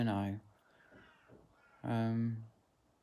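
A crow caws loudly outside, two harsh strong calls separated by a quieter stretch, the first short and the second longer, with faint murmuring in the gap.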